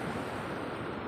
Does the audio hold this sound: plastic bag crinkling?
no